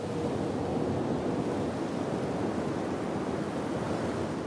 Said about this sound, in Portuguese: O vento só é visto e ouvido quando ele toca em algo.